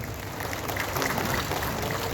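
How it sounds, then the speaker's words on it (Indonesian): Steady, dense applause fills a large audience at a thank-you concert for volunteers and health workers at Sentul International Convention Center, holding at an even level throughout without pause. "Tepuk tangan untuk Ibu Wanda Ponika"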